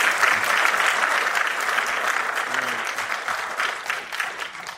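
Audience at a city housing and homelessness committee meeting claps together, a sustained round of applause that stays strong and slowly tapers, with a faint voice briefly underneath.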